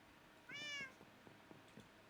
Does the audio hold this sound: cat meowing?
yes